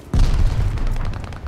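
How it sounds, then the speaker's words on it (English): A sticky bomb going off in a video game gives one heavy, booming explosion with a sharp onset, followed by a deep rumbling tail that lingers for about a second, loud and close. "Sticky bomb out."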